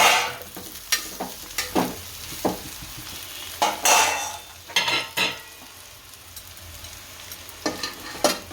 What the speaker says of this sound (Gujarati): હવે આને હલાવી નાખશું.